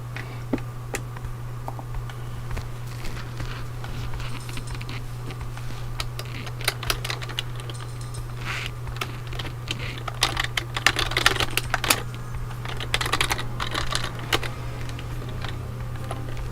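Computer keyboard typing in irregular bursts of clicks and taps, moderately close, over a steady low electrical hum, with no talking.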